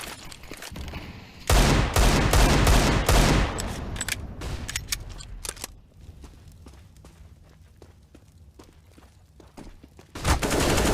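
Rapid gunfire from a CS:GO esports match, including auto-sniper shots, with dense loud bursts of overlapping shots and a sparser run of single cracks and footsteps before a final burst.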